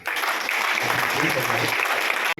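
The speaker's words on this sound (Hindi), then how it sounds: "धन्यवाद ज्ञापित करती हुई तालियां होना चाहिए" An audience claps in thanks, a loud, sustained wash of applause filling the space evenly before cutting off abruptly at the end, with a low murmur of voices underneath.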